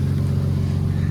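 A car engine just brought back to life with a jump start hums low and steady at close range, a short continuous idle with no other sounds.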